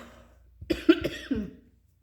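A short burst of three or four raspy coughs in quick succession, close up, then silence; no talking.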